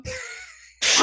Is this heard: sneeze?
yes